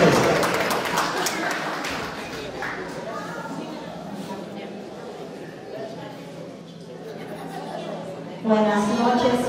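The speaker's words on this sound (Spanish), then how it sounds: "Venga, el aplauso entonces para Elizabeth Parque." Guests at a wedding celebration applaud together, the clapping strongest at the start and then thinning out under crowd chatter and a voice, with a brief louder burst near the end.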